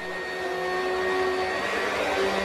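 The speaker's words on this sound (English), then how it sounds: "Here I am running a vacuum cleaner using the VMAX battery as the heart of my power" A vacuum cleaner running off an off-grid van power system built around a VMAX SLR 125 battery, a loud steady motor whine with a constant hum and fixed tones, close and uninterrupted with no talking.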